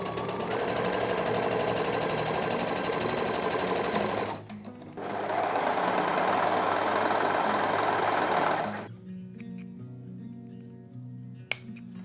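Sewing machine stitching front and back fabric pieces together, two loud rapid mechanical runs separated by a short pause, then stopping to quieter handling noises.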